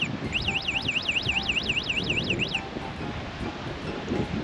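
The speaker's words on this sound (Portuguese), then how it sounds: "O alarme começa logo a tocar." A warbling anti-theft alarm siren on a DYU A5 electric bicycle rises and falls rapidly for a couple of seconds, then cuts off, leaving steady wind and outdoor background noise.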